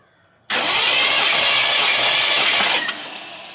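An AMC 360 V8 cranks over on the starter during a compression test, an abrupt loud, steady whirring churn lasting about two and a half seconds before tapering off.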